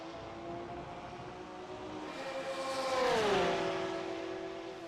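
Race car engines in a sim racing game drone together as the cars bump draft down a front straightaway, a steady whine swelling louder and then dropping in pitch as one pulls past.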